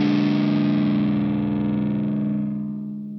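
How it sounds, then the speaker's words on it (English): A distorted electric guitar rings out a tritone interval, a dissonant sound, as one loud sustained chord with a slight wavering beat that slowly decays over about three seconds, with no one talking. "And in between those, this is what a tritone sounds like."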